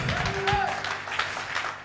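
Applause and acclamation from a church congregation during a sermon, a short burst of clapping with raised voices mixed through it, fairly close and steady.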